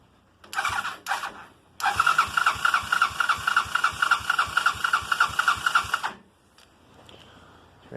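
A Honda 200cc off-road buggy engine cold starting: two short starter bursts, then a longer rhythmic cranking of even pulses for about four seconds, stopping without catching, close and loud.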